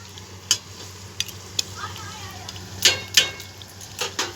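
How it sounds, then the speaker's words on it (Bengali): Chicken and potatoes for biryani are stir-fried in a pan, with a soft sizzle underneath and a few sharp scrapes and clanks of the spoon, close up and fairly quiet. "ভালোভাবে একটু কষিয়ে নিচ্ছি। এবার আলুটাও এবার মিশিয়ে নিলাম।"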